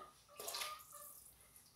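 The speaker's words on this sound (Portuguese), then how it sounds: "Vou botar uma água aqui pra gente dar uma escaldada, né?" Water poured from a kettle into a French press coffee maker to preheat it, heard as a short, close splashing burst that fades into a gentle trickle.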